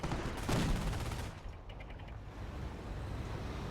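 Tank cannon and gunfire in the WWII strategy game Company of Heroes: a heavy blast with a rattling volley near the start, fading into distant rumble and scattered faint shots.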